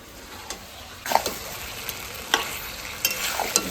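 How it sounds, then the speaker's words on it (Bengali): Mutton is stir-fried village-style in a pan: a soft sizzle runs underneath while repeated scraping strokes of a spoon come in irregular bursts, close by. "এবার খাসির মাংস যত কষাবো ততই ভালো লাগবে খেতে তার জন্য সুন্দর করে কষাই নি"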